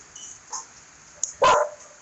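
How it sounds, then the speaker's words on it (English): A farm dog near calving cows lets out one loud, sharp bark close by, with a few faint yips before it over a quiet outdoor background. "She barks, makes cows think they're not going to come in."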